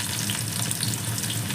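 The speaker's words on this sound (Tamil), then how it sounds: "கடுகு பொரிஞ்சதும் ஒரு 4-5 வெங்காயம் மட்டும் சின்ன வெங்காயம் கட் பண்ணி போட்டுக்கோங்க." Small onions frying in hot oil with popped mustard seeds make a continuous close crackling sizzle with faint stirring, steady and alone, with no voices.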